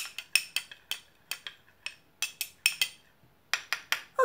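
A spoon clinks repeatedly against the side of a cup while stirring oat flakes into chamomile tea, giving a quick, bright run of irregular taps with short pauses between them, close and fairly quiet, with no talking.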